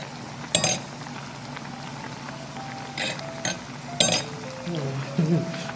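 A pot of cochinita pibil sauce cooks slowly with soft bubbling, broken by a few sharp clinks of a spoon against the pot. A voice speaks faintly underneath.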